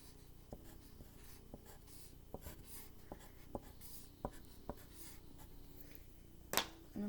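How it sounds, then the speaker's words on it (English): A marker or crayon scratches across paper while a fire is drawn, giving soft close strokes and taps in an irregular rhythm, with a brief louder rustle near the end. "I'm going to draw a nice warm fire."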